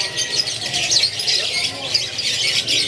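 Loper canaries in caged boxes at a bird kiosk, a dense, continuous chorus of shrill chirps and squawks, loud and close, with no pause.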